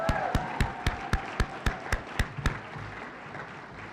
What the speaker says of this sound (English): let's give Shawnee a big round of applause